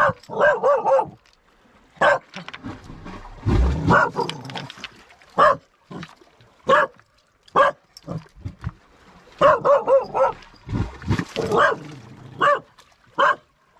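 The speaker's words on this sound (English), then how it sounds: "She's barking because she doesn't know what it is." A dog barks in repeated short bursts at an unfamiliar noise on a cliff path, some sharp and some higher and yelping, with pauses between volleys; the barking sounds fairly close.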